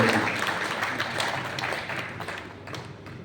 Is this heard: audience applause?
yes